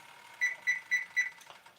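A kitchen timer alarm rings in four quick, evenly spaced electronic beeps, close and clear against a quiet background, then stops.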